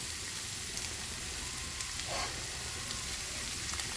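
A little olive oil sizzling in a frying pan, a steady bright hiss with crackling spatter throughout, close and even, no talk.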